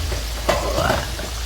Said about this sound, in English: So the pan is already on heat, and we just place our pieces.